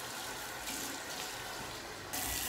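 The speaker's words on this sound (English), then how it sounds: "rinsing face with hot water" Hot tap water runs steadily from a faucet to rinse a face, a continuous close hiss that gets louder near the end, with no talking.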